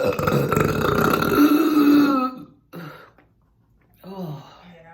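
A loud, drawn-out burp rumbles for over two seconds, then fades, followed by a short gap and a couple of smaller throaty gulps or belches close to the mic.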